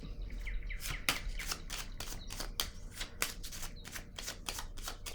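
Tarot cards are handled and laid down one after another, crisp close-up snaps and flicks repeating rapidly at a quiet level.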